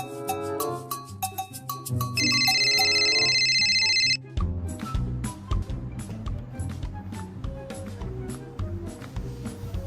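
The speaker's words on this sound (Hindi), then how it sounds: "इतनी देर से तुम्हारा फोन बज रहा है" Electronic phone ringtone playing a repeating melodic tone pattern, loud and steady, with a sustained buzzing ring section midway, set against background music in a home family scene.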